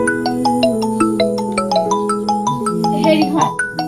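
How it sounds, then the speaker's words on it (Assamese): A mobile phone rings with a bright, repeating electronic ringtone melody, close and clear, steady for a few seconds with no one talking over it. "এই ফোনটো বাজা আনো শুনছা"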